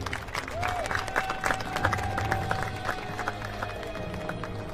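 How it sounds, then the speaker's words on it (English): A stadium crowd at an archery World Cup bronze medal ceremony in Shanghai claps and cheers steadily throughout, a dense even patter with a faint whistle-like tone drifting over it. "The crowd celebrating there."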